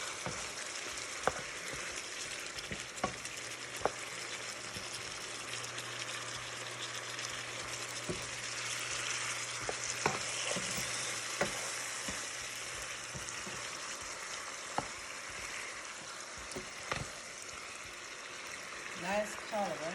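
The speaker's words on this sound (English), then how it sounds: "stir it up a little bit" Jamaican curry chicken stirred in a covered pot, a faint steady simmer and sizzle with occasional light scrapes and clinks, quiet and continuous, with brief talk.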